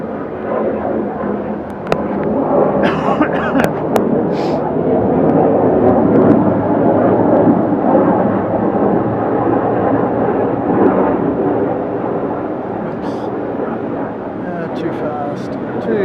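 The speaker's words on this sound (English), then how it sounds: "F-15's taking off." F-15 fighter jets taking off in Okinawa, a loud, sustained broadband jet roar that swells and holds for the whole stretch, with a few faint voices and brief clicks over it.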